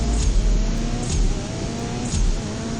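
Racing car in the mobile drag-racing game CSR2 accelerating hard in fifth gear with nitrous engaged, a loud steady engine roar with a sharp whooshing burst roughly every second, heard alone without talk.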